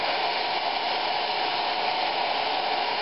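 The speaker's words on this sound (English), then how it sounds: "Now I've got my hair dryer, you know, because I really need a hair dryer" Close, steady whoosh of a hair dryer blowing continuously at constant strength, with no pauses or voices.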